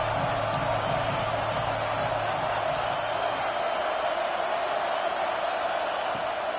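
Continuous stadium crowd roar from a video game football matchup between Alabama and Texas Tech, a steady broadband wash with a faint low murmur early on and no clear voices.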